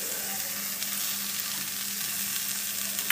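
Peas, green chillies and coriander fry in a pan, a steady even sizzle close up with soft crackle and no voices over it.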